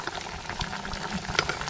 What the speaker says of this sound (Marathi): हे बघा आता कड कसा आलाय बघा